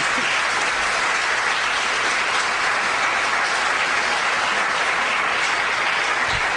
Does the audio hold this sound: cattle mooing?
no